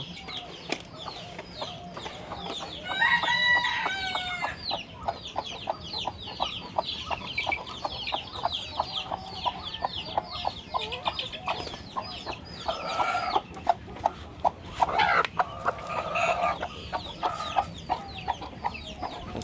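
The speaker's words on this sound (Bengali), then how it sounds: "দেখুন মুরগিটাকে ছেড়ে দিয়েছিলাম।" A hen and rooster raised at home cluck in repeated short bursts at close range, with a few louder squawks scattered through and no voices.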